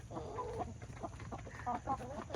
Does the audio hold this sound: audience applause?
no